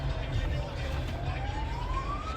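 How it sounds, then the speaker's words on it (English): A police car siren wails at a distance, its tone slowly falling and then rising, beneath steady street traffic noise in Jamaica. "Police car come."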